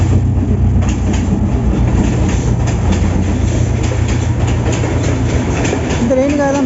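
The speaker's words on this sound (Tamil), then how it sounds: "இப்போ தான் வந்திருக்கு அந்த ரெயின் தான் போகுது பாருங்கள்." A train rolls through a Sri Lankan railway station up close with a loud rumble and rhythmic clickety-clack of wheels, a thin wheel squeal near the end, and voices faintly underneath.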